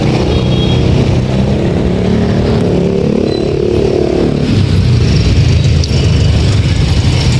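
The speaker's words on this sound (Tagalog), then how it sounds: "Traffic." Road traffic with cars and motorcycles rumbles steadily nearby, engines droning and revving in a loud, continuous mix, with a heavier passing vehicle swelling toward the end.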